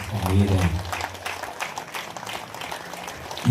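An audience at a pyramid-meditation gathering in Velagapudi claps loudly at first, then the applause thins into scattered claps. A voice booms over the opening.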